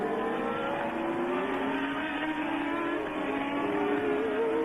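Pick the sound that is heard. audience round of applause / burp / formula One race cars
formula One race cars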